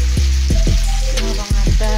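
Sausages frying in a pan at home, a loud close sizzle with crackling pops throughout and a brief break near the end.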